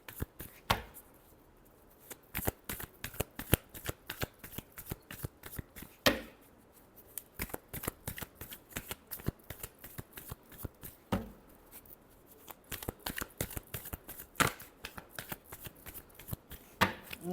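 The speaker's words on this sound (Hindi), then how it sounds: "Last shuffle." A deck of cards is shuffled repeatedly during a horoscope card reading, giving close, crisp riffling bursts and snaps in quick runs with short pauses, and no voices.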